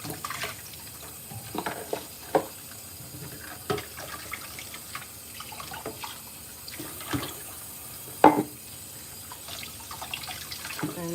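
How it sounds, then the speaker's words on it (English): Hot tap water runs into a sink while greasy dishes are rinsed with soap, with intermittent splashes and clinks of dishware over a soft, steady trickle in a home kitchen. "rinse it off in the hot water with the soap"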